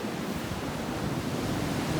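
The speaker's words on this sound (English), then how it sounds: "I see some pretty decent waves breaking out here" Ocean waves breaking on a beach, a continuous rumbling wash of surf heard from nearby, steady and broadband with some wind noise on the microphone.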